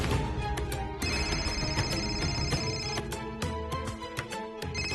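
A phone rings indoors in a family home with a loud, continuous melodic electronic ringtone, its repeating notes filling the scene with no voices over it.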